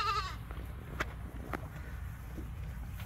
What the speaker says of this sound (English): Don't worry, goats. Don't worry, baby goats.